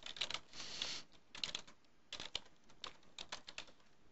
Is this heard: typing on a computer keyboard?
yes